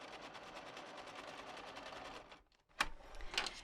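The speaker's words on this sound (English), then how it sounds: "So we'll just practice sewing on our scrap here a little bit." A sewing machine runs a practice line of stitches on a scrap of T-shirt fabric with a steady rapid whir up close, then stops, followed by two sharp clicks.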